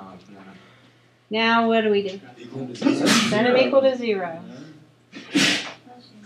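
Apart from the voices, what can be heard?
sneeze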